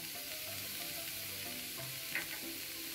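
Sliced snake gourd and carrot fry with turmeric powder in a pan for a Kerala thoran, giving a quiet, steady sizzle with a faint stir near the end.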